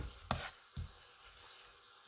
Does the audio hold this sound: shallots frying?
yes